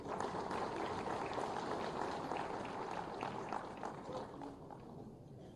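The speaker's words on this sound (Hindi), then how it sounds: "आपकी जोरदार तालियों के साथ" Audience at an Indian lecture-series event clapping to welcome a guest speaker, a dense sustained wash of applause that gradually thins toward the end.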